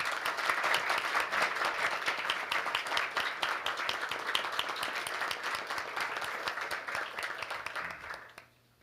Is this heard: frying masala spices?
no